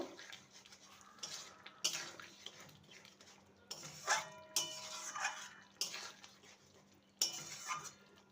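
A spoon scrapes and clatters in a pan while Mughlai-style cauliflower is stirred with kasuri methi and garam masala. Irregular scraping bursts come close and moderately loud over a faint steady hum, with no talking.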